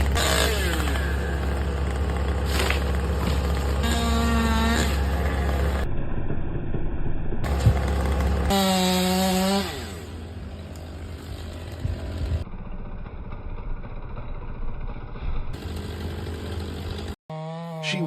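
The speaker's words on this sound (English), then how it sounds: "The saw snarls as it bites into the old wood." Chainsaw cutting into old tree wood during tree felling, a loud continuous engine snarl with the pitch rising and falling as the blade bites, broken by a few abrupt cuts and a near-silent gap near the end.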